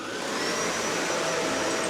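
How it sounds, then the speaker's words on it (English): A full-size vacuum cleaner powered by a UDPOWER S1200 portable power station roars with a loud, steady whooshing motor drone and a faint whine on top, close and continuous. "can this UDPOWER S1200 run a full-size vacuum cleaner?"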